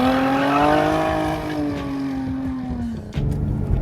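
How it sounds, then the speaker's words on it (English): A Jaguar F-Type V6 S with switchable exhaust sounds close and loud, its engine note sliding slowly downward in pitch as it eases off, followed by a sharp crackle and renewed surge of acceleration. "But it is an S, so we've got the switchable exhaust, which makes that fabulous sound"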